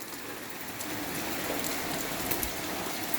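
Rain falls on rooftop solar panels as a steady, dense hiss and patter, close and even throughout with no voices.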